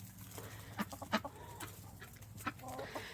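Several chickens clucking in an enclosed coop, a scattered run of short close clucks and squawks at uneven intervals over a low steady background hum, with no voices.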